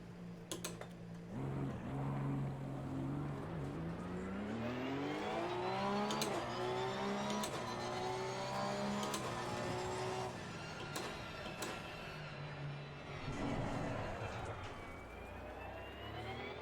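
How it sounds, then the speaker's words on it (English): A GT race car in Assetto Corsa Competizione revs up through rising and falling engine tones, shifting gears as pitch climbs and drops, fairly loud and continuous, with no talking. "Car started right up,"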